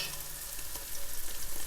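Diced vegetables and lardons frying in a pot for a bolognese sauce, a steady close sizzle and crackle that swells slightly as the pan is stirred.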